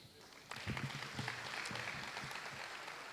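Applause from a New York stage show audience begins abruptly and carries on steadily, a moderate clatter of many hands clapping at some distance, with a bit of murmuring.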